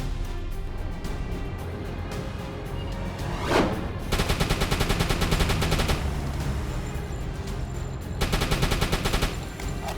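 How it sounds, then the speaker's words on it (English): Rapid machine-gun bursts rattle out in two long strings over steady engine and sea rumble aboard a WWII U-boat in a video game, with a brief whooshing rocket launch just before the first burst; close and loud, no talk. "He just launched a rocket at me."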